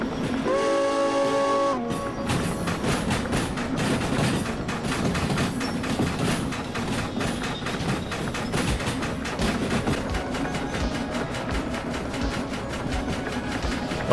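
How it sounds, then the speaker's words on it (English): A goods train hauling 384 tonnes in the Derail Valley game sounds a sustained whistle at the start, then the rolling rumble and rhythmic clatter of wagons continues steadily, near and loud. "Whistle."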